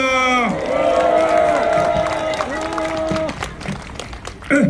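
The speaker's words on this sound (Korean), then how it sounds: "다시 한번 박수 뜨겁게 더 세게" An outdoor rally crowd at a train station claps steadily under a loud amplified voice, with cheering mixed in, a dense wash of applause throughout.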